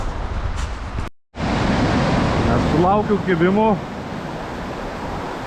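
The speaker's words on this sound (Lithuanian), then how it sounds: "Dabar didelės tos bangos" Big sea waves break on the shore where someone is fishing from the beach, giving a continuous close roar with wind buffeting. A brief spoken phrase and a short warbling tonal call cut through the surf.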